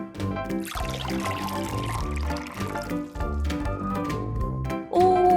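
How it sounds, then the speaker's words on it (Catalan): Syrup poured into a glass that already holds water for a density experiment, a steady close pour lasting several seconds with a rising fill, likely over background music, ending in a brief bright tone. "Després, afegim la mateixa quantitat de xarop."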